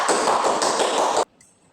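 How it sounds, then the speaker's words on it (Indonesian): Classroom applause during a grade 4 science lesson, a dense burst of clapping from many hands lasting just over a second and stopping abruptly, followed by near silence. "Beri aplaus kepada kita semua"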